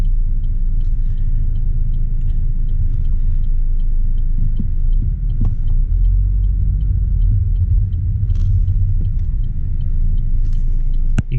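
A Chevrolet Cruze rolls along at low speed, its engine and tyre rumble a steady, close low drone with faint clicks and knocks over the top and no one talking.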